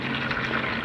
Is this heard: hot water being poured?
yes